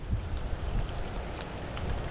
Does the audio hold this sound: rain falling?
yes